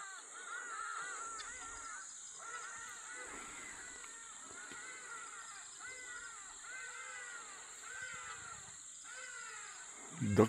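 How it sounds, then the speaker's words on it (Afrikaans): Hornbills (ground hornbills) calling at first light on a bushveld hunting farm near Steenbokpan, a steady series of repeated harsh, honking calls at moderate distance with birdsong around, ending in a brief louder thump. "Hier kom ou korras van ons kuier. Neushoornvoëls is hulle amptelike naam."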